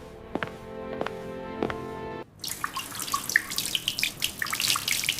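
Water runs from a bathroom tap, starting abruptly after a few soft knocks and then splashing and hissing steadily and close by, with no talk.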